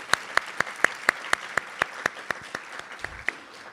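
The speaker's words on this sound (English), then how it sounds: "Let's give him a round of applause as well." Small audience clapping at a college honor society induction ceremony, a sparse, slightly uneven run of distinct claps that is close and fairly loud, with one or two other people clapping faintly behind.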